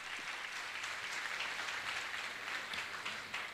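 An audience at a religious gathering claps in honour of the singer Nikhil, a fairly faint, dense and sustained patter of many hands heard from a distance with no talking.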